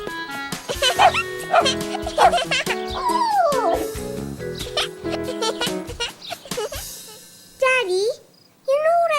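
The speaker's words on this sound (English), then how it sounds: "playing with the little white dog." A little white dog yips and barks several times in short bursts within a cartoon soundtrack, mixed with a voice, music and talking.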